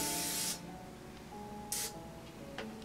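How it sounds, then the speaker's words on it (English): Cooking spray hisses from a canister in two bursts, a long opening spray and a shorter one later, plus a brief puff near the end, over a quiet background hum. "it's always helpful to have a canister of cooking spray. Alright, so go ahead and spray it down."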